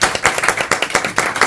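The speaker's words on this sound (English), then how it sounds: "So can we just give a big round of applause for them?" Audience applause at a breast, bowel and cervical cancer awareness event, a short close burst of hand clapping with distinct individual claps, loud and alone.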